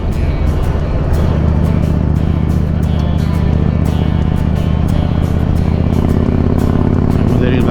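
A Harley motorcycle riding on a road gives a loud, steady engine drone with road and wind roar throughout, close and continuous.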